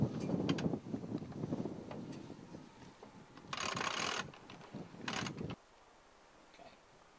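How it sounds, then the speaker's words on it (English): A sailing winch ratchets with rough mechanical clicks and grinding bursts as a rope is wound on and takes the strain, loud at first, then fading to a quiet, steady hiss. "Using the new winch with the rope, you can take the strain using the rolling hitch off the old winch"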